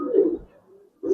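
Pigeons of a colourful Giribaz breed at a farm cooing nearby, two short low throaty coos separated by a brief pause.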